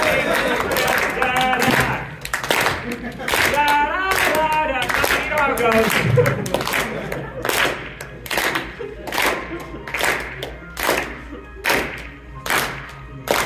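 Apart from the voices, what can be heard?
audience clapping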